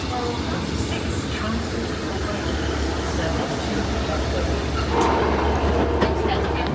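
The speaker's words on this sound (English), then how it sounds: "The Caerphilly train is coming in 3 minutes. Oh, in fact, it's coming right now." A Caerphilly-bound train pulls into a platform at Cardiff Queen Street station, with a steady low rumble throughout that swells slightly near the end and faint voices in the background.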